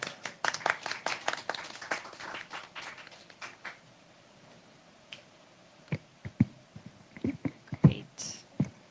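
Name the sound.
audience applause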